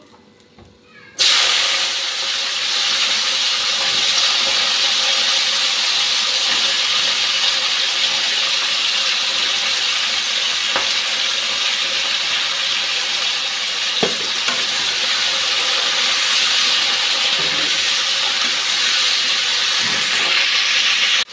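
Flat beans hitting hot oil set off a sudden, loud, sustained sizzle and hiss that stays even and continuous, with a few faint clinks of stirring underneath.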